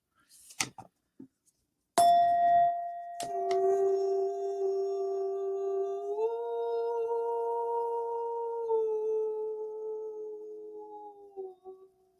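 A woman sings light language as a channeled healing vocalization, a pure, tone-like sustained voice holding long notes that step up and then slowly down after a few brief clicks, quiet and intimate, with no spoken words.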